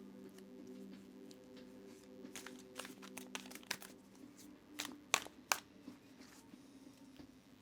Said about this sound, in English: I'm going to go ahead and give the deck a really good shuffle for you